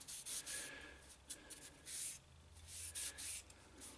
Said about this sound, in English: So I'm just rubbing the oil on the spoon.